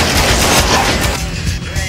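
Heavy gunfire from the Time and Tide film trailer, a loud, continuous fusillade of rapid shots and bursts crackling throughout with no pause.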